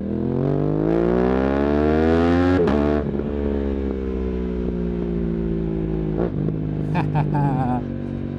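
An Aprilia RS660 ridden at night through Belgrade, its engine revving up with rising pitch, shifting with a sharp break, then pulling steadily again, loud and close with some rattling.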